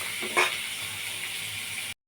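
Ginger and garlic frying in a pan give off a steady, close sizzling hiss with one brief stirring scrape near the start, then cut off abruptly.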